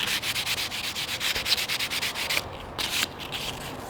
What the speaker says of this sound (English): Slightly sand it.